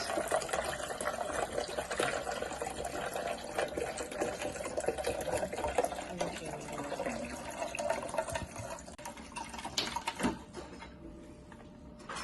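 Water pouring into a blender already filled with ice for iced coffee, a steady splashing gush that runs for about twelve seconds before tapering off.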